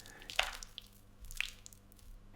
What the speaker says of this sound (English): Mix everything together until every piece is fully coated.